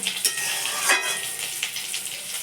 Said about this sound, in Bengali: জল দিয়ে দিলাম একটু ফুটে উঠুক